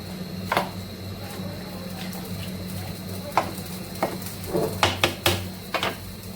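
Meat cooking in a pot on a stove gives a steady close hiss and bubbling hum, with intermittent clinks and scrapes of utensils against the pot, no voices.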